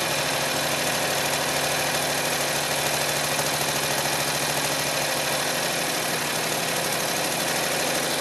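A Predator 670cc engine runs cold with the throttle held open, a steady loud mechanical roar with a knocking vibration throughout, close and continuous with no voices.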